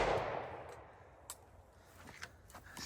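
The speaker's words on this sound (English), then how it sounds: "now we're going to try the AR up through that 12-inch piece, see if it does what the AK did." An AR rifle fires a single 5.56 round into a 12-inch tree log outdoors. The sharp report opens the clip and fades into a long echoing tail, followed by faint scattered clicks.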